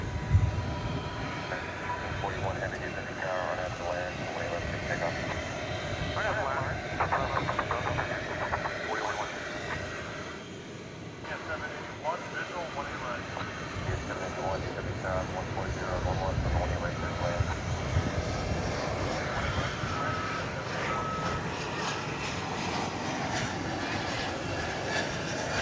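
A passenger airplane taxiing toward the end of the runway at DFW airport at night: a steady, moderate jet engine rumble and whine held throughout, with talk over it.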